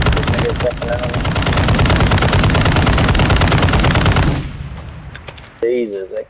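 Rapid automatic gunfire rattles loud and close in a sustained burst during a Call of Duty Warzone match, then cuts off abruptly, leaving quieter scattered sounds and brief voices.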